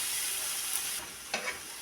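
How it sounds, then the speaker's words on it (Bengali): Eggplant fries in a thin layer of oil over low heat, giving a steady, close hiss that dips partway through, with a brief stir or scrape rising out of the sizzle. "এখন হিটটা একটু কমে দিয়ে আস্তে আস্তে ভালো করে ভেজে নিই।"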